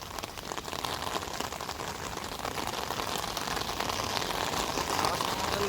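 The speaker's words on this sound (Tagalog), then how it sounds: "malakas ang ulan" Heavy rain pours steadily near the Pasig River in Manila, a dense hiss of drops pattering on surfaces that grows slightly louder over time.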